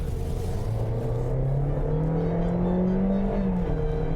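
Engine note of a 2020 Toyota Corolla ZR pulling away, a steady hum rising smoothly in pitch, then dropping as the CVT simulates an automatic gear change before climbing again, heard from inside the cabin over road rumble.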